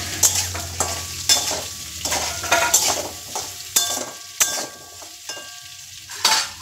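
Papaya pieces frying in a pan with a little salt, giving a close sizzle broken by repeated scraping strokes of stirring, the fry loud and steady with no voices.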